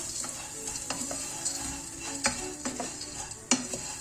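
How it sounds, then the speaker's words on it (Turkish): Noodles being stirred in a pot with melting butter, giving soft sizzling under irregular scraping and clinking of a utensil against the pot, fairly quiet and close. "Şöyle tereyağın eriyene kadar çeviriyorum."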